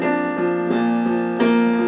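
Romantic-style piano plays a left-hand octave and fifth pattern, notes rolling up and back down in a smooth, sustained figure, close and clear with no talking.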